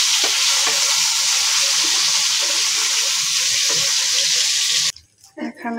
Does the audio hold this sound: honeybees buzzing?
no